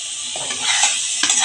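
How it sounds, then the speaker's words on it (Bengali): Fried potatoes are tossed into a pan and sautéed, giving a brief close sizzle with two scraping stirs against the pan, short and unaccompanied by speech. "এবার আলু ভাজাগুলো দিয়ে দিচ্ছি। 2 মিনিট কষিয়ে নেব।"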